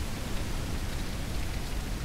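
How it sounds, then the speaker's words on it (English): Steady rain falling in the survival game Mist Survival, a dense, even hiss of downpour with no breaks, loud and close, with no talking over it. "And hopefully it stops raining soon."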